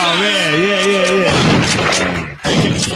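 Soundboard gunshot effect firing as loud, booming crashes of gunfire, rapid and close, after a warbling tone, with voices talking over the noise.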